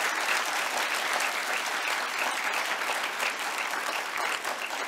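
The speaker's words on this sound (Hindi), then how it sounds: "जोरदार तालियां, जोरदार।" A crowd gives loud, sustained applause during a yoga session on women's health, dense even clapping running throughout without speech.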